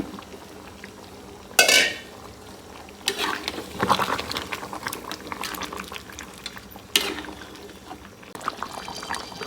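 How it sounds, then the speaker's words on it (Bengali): Duck curry simmers in a pot, soft bubbling and liquid sounds punctuated by a few sharper clinks and stirring scrapes, quiet and close with no talk. "তরকারি ফুটছে খুব সুন্দর করে।"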